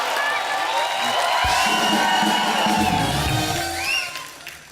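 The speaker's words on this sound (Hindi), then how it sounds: "जोरदार तालियां हो जाएं" Studio audience on a Hindi television comedy talk show bursts into loud applause and cheering for actress Waheeda Rehman, a dense roar of clapping with whoops that holds steady and then tapers off near the end.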